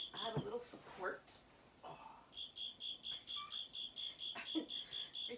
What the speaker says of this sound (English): Every time I get excited that the tree frog is done for the time being, I'm going to start calling it a tree frog just so I can manifest it that way